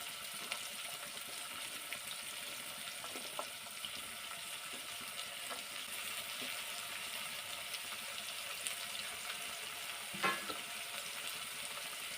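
Onion and mixed vegetables frying in a pan for millet bisibele bath, a steady soft sizzle running throughout with faint stirring scrapes and one brief clatter near the end.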